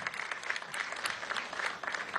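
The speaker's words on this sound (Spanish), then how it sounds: "Vamos a dar un aplauso al alcalde del municipio Vargas." Audience applauding the mayor of the Vargas municipality at an inauguration of a historic and cultural complex in La Guaira, a fairly faint but steady crowd clapping with individual claps popping through.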